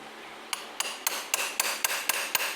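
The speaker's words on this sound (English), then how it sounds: "He's angling the chisel down a little bit, just so he's tapping." A hammer taps a chisel during a service on a Triumph Tiger motorcycle: about ten sharp, evenly spaced metallic knocks, close and clear, with no talking.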